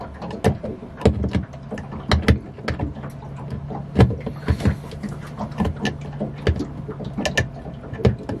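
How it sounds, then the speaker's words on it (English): Electric screwdriver removing screws from an electric cabinet, giving repeated short whirring and clicking bursts with clattering knocks at an uneven rhythm, close and fairly quiet. "it's time to whip out the screw machine and start removing some screws"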